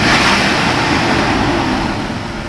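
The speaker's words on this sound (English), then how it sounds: "Let's try to accelerate from under the hood." Mercedes 600SL engine revved from under the hood, a loud, steady roar filling the whole stretch and easing slightly toward the end.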